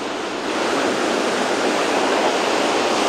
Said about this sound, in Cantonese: 水大浪捲過嚟嘅時候高過成個人